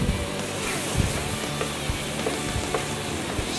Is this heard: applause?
no